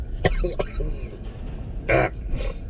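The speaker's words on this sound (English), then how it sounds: "Or you can catch me coughing like I am right now with my morning GERD" A couple of short, rough coughs close by from a person with morning acid reflux, then a louder throaty burst a moment later, over a low background rumble.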